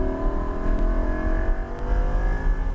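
A Lamborghini Huracan Evo accelerates hard on a race track, its engine a loud, steady, close roar with rising harmonic tones that continue unbroken without pause.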